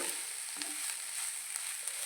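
Drumstick leaf stir-fry crackles in a pan as a wooden spoon stirs it, giving a soft, continuous sizzle with light scraping taps, close and without talk.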